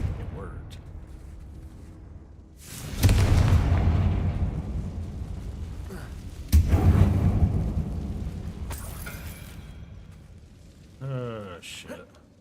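Two heavy booming blasts of the Confringo spell in the video game Hogwarts Legacy, each a sudden loud burst that rumbles and slowly fades, followed by a brief lighter crackle near the end.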